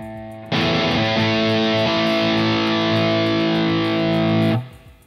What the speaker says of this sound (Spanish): Es un JCM 800 rugiendo.